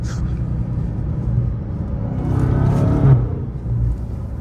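A Dodge Hellcat Widebody Jailbreak being driven gives a steady low engine rumble that swells and peaks around the middle before easing, with only a faint hint of supercharger whine above it.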